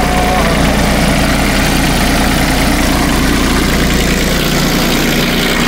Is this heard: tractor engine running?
yes